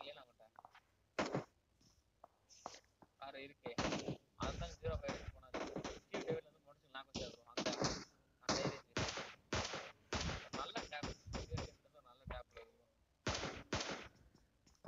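Rapid bursts of gunfire ring out in a PUBG Mobile custom room match, sharp repeated shots spread across the stretch, with a commentator talking over much of it.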